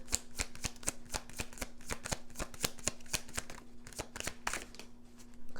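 Tarot cards are shuffled in an even run of soft papery slaps and riffles, close and quiet, beneath a faint steady hum, with no talking.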